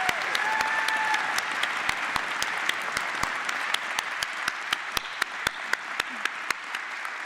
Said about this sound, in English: giving her a really resounding round of applause for her exceptional service to this university